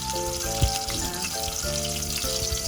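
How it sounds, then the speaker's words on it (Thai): Curry paste for northern Thai stir-fried pickled bamboo shoots fries in oil with a steady, close sizzle, a sustained tonal melody running alongside it. "เราก็นำพริกแกงของเรานะคะ มาผัดกับน้ำมันให้มันหอมๆก่อนนะทุกคนนะ"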